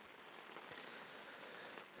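Steady rain falls outdoors during a Coues deer bow hunt in Mexico, a faint, even hiss of drops on surfaces with no voices.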